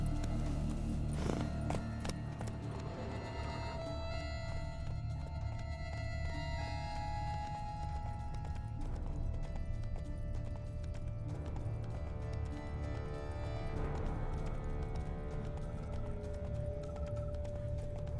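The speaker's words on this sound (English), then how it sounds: "Run, Roach" Rapid hoofbeats of a galloping horse in The Witcher 3: Wild Hunt pound on and on in a steady clip-clop rhythm over a music backdrop, loud and continuous throughout.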